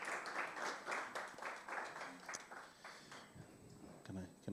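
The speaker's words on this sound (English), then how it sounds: "Let's give him another round of applause." Applause from an audience at a business clinic session, fairly faint and steady with rhythmic clapping, a brief voice near the end.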